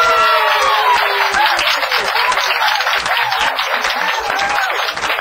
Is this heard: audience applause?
yes